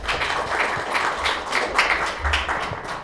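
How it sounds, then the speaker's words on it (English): An audience at a tech meetup claps for the next speaker, a short burst of fairly close, uneven applause. "So give him a big round of applause."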